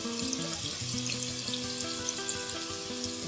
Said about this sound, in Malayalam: കുറച്ച് സ്പൈസസ് ഇതിൽ ചേർത്തിട്ട് വഴറ്റിയെടുക്കാം.